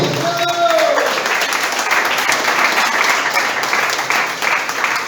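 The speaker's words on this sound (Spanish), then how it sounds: "Dale un fuerte aplauso a Cristo." A church congregation claps loudly and continuously in a full, steady burst of applause, with a brief voice rising over it at the start.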